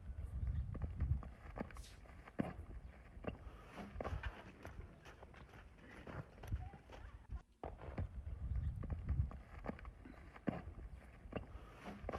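Faint, irregular hoof thuds of a crow-hopping horse on dirt come and go at a distance, with scuffs and some background rustle; no clear speech.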